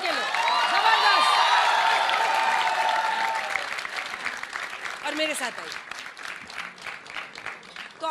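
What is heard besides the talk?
audience applause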